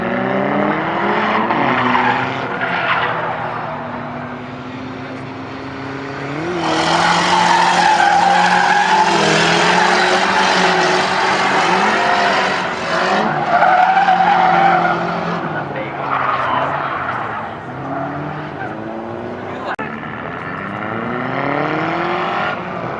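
Tires skid and squeal in long, loud stretches as a turbo Nissan Hardbody and an SOHC 240SX drift, with engines revving underneath and voices talking nearby.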